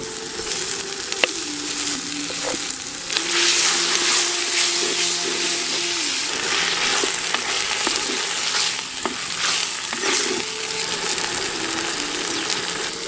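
Sliced large onions frying in a pan of oil for horse gram rice, a steady broadband sizzle with intermittent scraping stirs and light utensil clicks throughout, close and fairly loud with no talking.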